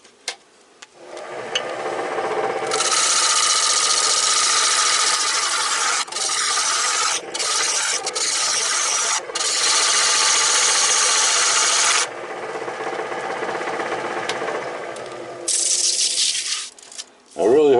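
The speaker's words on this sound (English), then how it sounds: "We got to turn in another 1/4 inch steel to get down to a solid core where we work with." A lathe cuts into steel to reach a solid core for a honey pot, making a loud, harsh, grinding rasp in long sustained stretches broken by several brief drops as the cut pauses.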